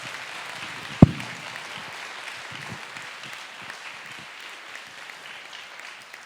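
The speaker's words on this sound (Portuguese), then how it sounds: "Dá um aplauso ao Senhor," A church congregation applauds the Lord during a Sunday morning service, a sharp thump opening into soft, steady, moderate clapping that carries on evenly with no voices over it.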